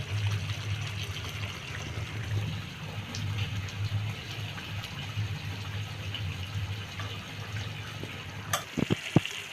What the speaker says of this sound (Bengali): রোস্টের ফ্লেভার আরও দ্বিগুণ করার জন্য এর মধ্যে আমি অল্প একটু কেওড়া জল দিব